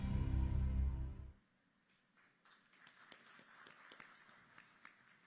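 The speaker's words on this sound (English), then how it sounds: "Thank you for the applause." Loud music stops abruptly, then an audience applauds at a function, scattered, fairly distant clapping that builds gradually and stays soft.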